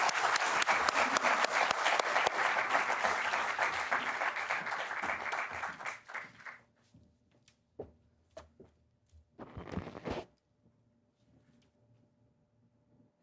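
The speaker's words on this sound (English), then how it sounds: "let us welcome them with a huge round of applause." A dense round of applause welcomes a panel at an arbitration session on enforceable awards, strong for about six seconds, then fading into a few scattered late claps and quiet room noise.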